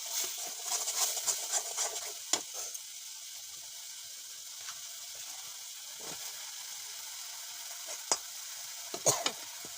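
Spices sizzle and fry in a pan while fish curry with small puti fish is cooked, a steady close hiss broken by a few sharp clinks and stirring sounds, with no talking.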